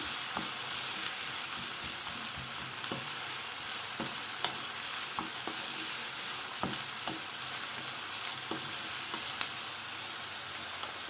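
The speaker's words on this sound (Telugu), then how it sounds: "ఆనియన్ అన్నది ఇలా కొంచెం గోల్డెన్ బ్రౌన్ కలర్ వచ్చే వరకు ఫ్రై అయిపోయింది కదా." Onions fry in a pan on the stove until golden brown, giving a steady, dense sizzle throughout with faint scattered clicks of stirring and no talking.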